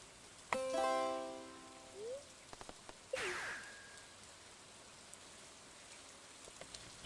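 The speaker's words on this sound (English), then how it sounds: "It's raining everywhere." Steady rain hisses softly in a video game, a constant wash under tonal chimes and a whooshing spell effect, with a few light clicks and no speech.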